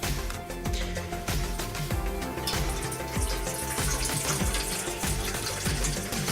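Tap water pours steadily into a container for brewing green tea, a continuous splashing hiss with a choppy, pulsing texture throughout.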